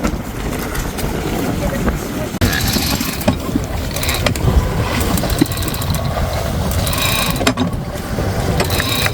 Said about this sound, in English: I'm gonna reel the fish for you. Alright, reel it in.